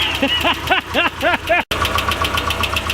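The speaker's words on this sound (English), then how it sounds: "So engine's leveling off. Still sounds like lifter tick." A Nissan 240SX engine idles with a steady, rapid lifter tick running through it, close and fairly loud, with a brief dropout midway.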